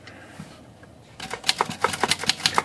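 Remington typewriter with a sticky escapement being worked: after a quiet start comes a burst of loud, close, rapid mechanical clacks and key strikes in an uneven rhythm, with no talk.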